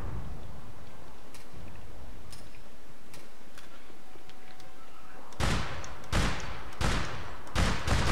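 A Joker carbine rifle in APB Reloaded fires a few sharp, loud shots in a row after a quiet stretch of faint clicks, each report bursting broadband and cutting off quickly.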